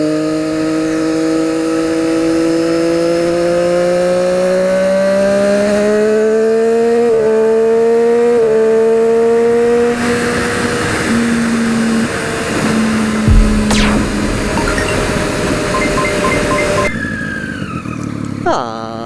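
A Kawasaki Ninja 300 motorcycle accelerates hard in fourth gear while passing traffic, its engine note climbing steadily and loud from up close, with a few brief throttle dips and wind roar building before it eases off near the end.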